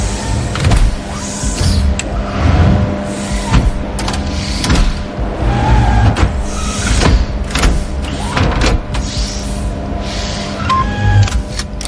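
Assembly-line machinery working on suspension installation for the Lucid Air electric car, with steady mechanical whirring, electric motor whines and intermittent clunks over a constant factory hum; no talk.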